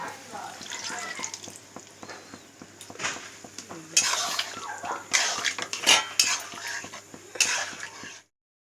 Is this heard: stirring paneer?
yes